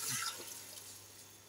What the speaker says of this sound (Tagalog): Lalagyan na tayo ng tubig.